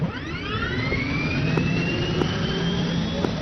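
A vehicle engine in the Arma military game spools up into a steady, loud, rising whine with a deep rumble underneath, and a few faint clicks punctuate it.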